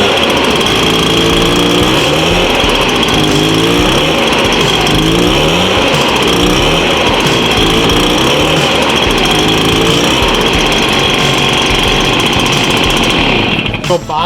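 A Stihl SR 430/450 backpack sprayer-blower engine with a clogged spark arrestor runs loud and close, bogging and surging in a rough, uneven drone that wavers throughout before dropping off at the very end.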